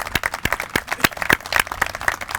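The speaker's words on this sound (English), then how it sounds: "I think we need another round of applause for the Lieutenant Governor" An audience at a public marina opening event applauds for the Lieutenant Governor, with loud, sharp, fairly close claps that come in an uneven, sustained patter for the whole stretch.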